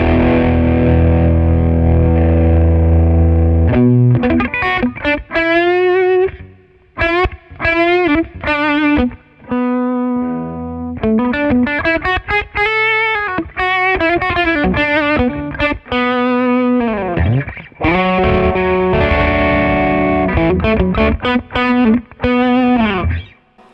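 Driven electric guitar with humbucker pickups played through a Roland Blues Cube amp, hot and saturated: sustained chords then busy melodic lead lines, loud and close, with no talking.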